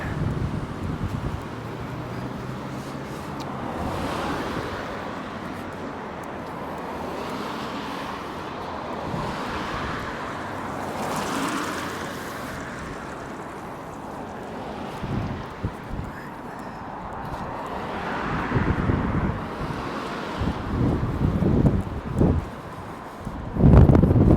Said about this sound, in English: Quite a bit of wind blow, but I got my microphone in, so it shouldn't be too bad.